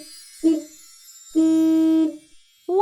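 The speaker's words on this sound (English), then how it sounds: "it's a car horn beeping" Two separate car horn beeps, the first short and the second held for under a second, each steady and fairly loud, followed by the start of a third honk.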